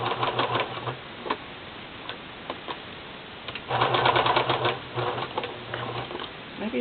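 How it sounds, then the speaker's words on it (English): A home sewing machine stitches a fabric panel in two bursts of rapid, rhythmic clatter with a steady motor hum and a short pause between them, close and fairly loud. "So I'm just going to go ahead and sew that."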